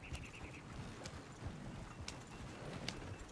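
Horses' hooves clip-clopping in the video game Red Dead Redemption 2, as a soft, fairly faint rhythmic patter of hoofbeats over a low background rumble.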